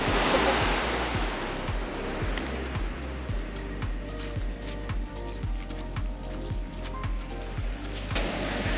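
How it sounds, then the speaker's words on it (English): Ocean surf on the Yorke Peninsula coast rumbles in a continuous broad wash from a distance, with faint regular ticking running through it. "That must be the surf break up, like over there."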